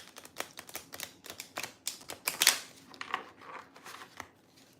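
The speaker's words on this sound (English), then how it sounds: "I'm actually going to give this a better shuffle" Tarot cards being shuffled close up: rapid dry riffling clicks and flicks in an uneven run, quiet and alone, with a denser papery burst near the middle before it tapers off.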